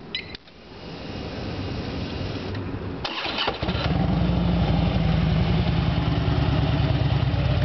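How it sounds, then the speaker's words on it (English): A 2006 Harley-Davidson Road Glide with a Vance & Hines exhaust cranks and fires up, then settles into a loud, deep, throaty rumble from a close, aggressive exhaust. "I'm going to start it up and let you hear the Vance and Hines exhaust."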